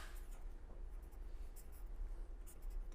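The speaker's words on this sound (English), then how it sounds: "So, let us write that" Chalk or pen scratches steadily across a board during a fluid mechanics lecture, a continuous scraping texture with brief accented strokes over a low room hum, no talking.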